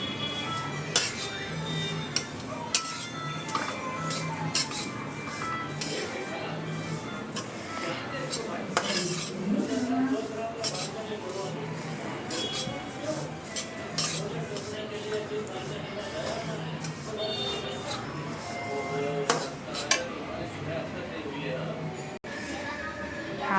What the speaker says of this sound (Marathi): बारीक गॅस ठेवून आपण आता मंद आचेवर तीळ थोडे भाजून घेऊया।